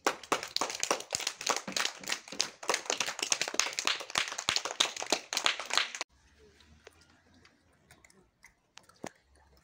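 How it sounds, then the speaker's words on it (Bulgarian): A room applauds the red team at a lively event, with dense, crisp clapping for about six seconds, then it stops abruptly, leaving a few scattered claps and quiet room sound. "Сега да чуем бурни аплодисменти за отбора на червени"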